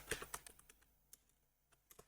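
JavaScript code being typed on a computer keyboard: quiet, crisp key clicks in an irregular run, clustered at the start and sparser afterward, in a quiet room.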